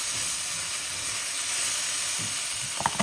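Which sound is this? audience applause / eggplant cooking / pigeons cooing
eggplant cooking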